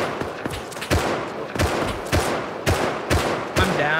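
Gunfire in the video game Rust, loud sharp shots cracking out one at a time in a steady, evenly spaced rhythm, about eight over several seconds.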